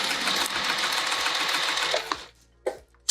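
Sewing machine stitching the lining of a tote bag, a fast steady motor hum with rapid needle ticks for about two seconds, then stopping, followed by a couple of small clicks.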